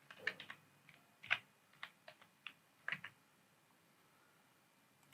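Typing on a computer keyboard, roughly a dozen sparse, quiet key clicks at an irregular pace, close and alone in a still room.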